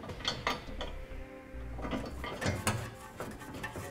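A bolt is threaded into a Draw-Tite trailer hitch under a 2015 Toyota Corolla, with faint close metallic clicks, scrapes and ratcheting as the bolt is started by hand.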